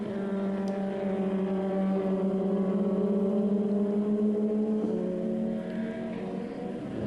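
Formula 2 race cars at Spa's Pouhon corner in the 2011 FIA Formula 2 Championship, engines droning at high pitch with shifting tones as the leading three cars run close together, steady and fairly loud throughout.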